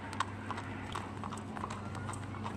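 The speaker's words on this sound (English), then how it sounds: "Here comes the horse parade." Horses clip-clopping along a street in a cavalry parade downtown, steady walking hoofbeats moderately near over a faint crowd murmur, with no clear talk.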